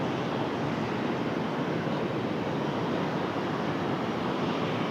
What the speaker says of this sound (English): So, where's this American 737 off to?